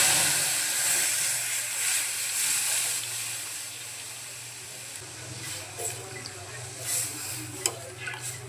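Cooked dal hitting a hot spice tempering in a home kitchen gives a steady hiss and sizzle, with faint stirring clinks and a few sharper pops toward the end.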